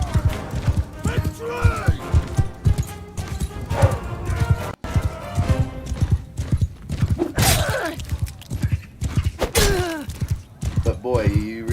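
A fast horse gallops in a video game, with rapid, rhythmic hoofbeats close by and occasional whinnies, while someone talks continuously over the action.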